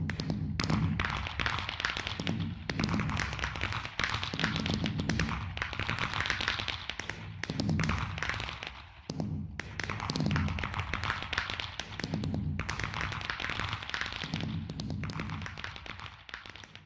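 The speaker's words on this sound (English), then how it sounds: "I think we should do the fireworks." Rapid bursts of fireworks in Minecraft going off in clusters with short pauses, loud and dense crackling pops and thumps filling the whole stretch.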